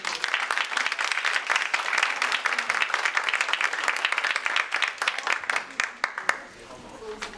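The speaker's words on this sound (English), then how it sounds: "Let's give a round of applause for these." An audience at a League of Women Voters candidates forum in a public library breaks into dense, sustained applause that thins into scattered claps near the end.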